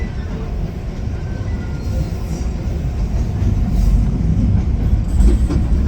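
Subway train riding through Osaka, a loud continuous low rumble of wheels and car body with faint rhythmic clatter, heard from inside the carriage.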